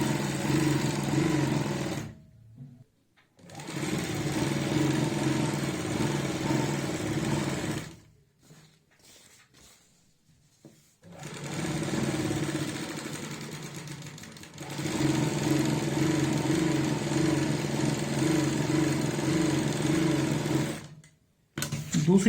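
An electric sewing machine runs in steady mid-pitched whirring bursts while stitching a half-inch seam on a salwar, with two clear pauses between runs and a short gap near the end.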